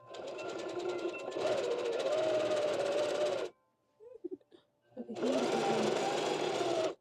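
A sewing machine stitching fabric in two long steady whirring runs, close and loud, with a short pause between them filled by soft handling clicks and a brief voice.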